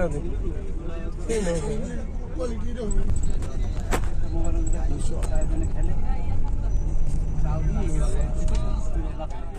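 City traffic in a jam in Chittagong rumbles steadily, with engines idling and moving close by, a sharp air-brake hiss, and people talking nearby.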